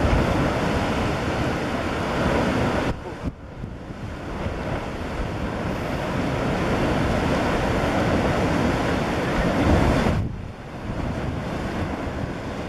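Steady roar of sea surf breaking at Calas de Mallorca beach, loud and continuous with wind buffeting the microphone and two brief dips where the wash drops away.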